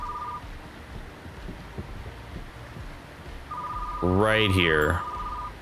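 A phone dial tone hums in a video game, a steady tone at the start and again later, with a rising and falling tone sweep near the end as someone speaks over it.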